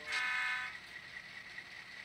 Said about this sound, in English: That one toot tells the crew that we've come to a stop and it's safe to uncouple.